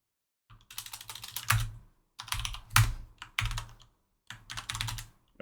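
Keys tapped on a computer keyboard entering a decimal number, several short bursts of quick clicks separated by pauses, close and clear with no talking.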